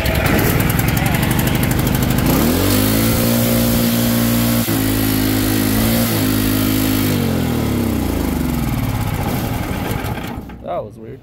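Duromax 500cc engine with the governor removed, running on choke at low throttle during break-in, a loud steady droning hum whose pitch rises, holds and then drops before the engine dies out near the end.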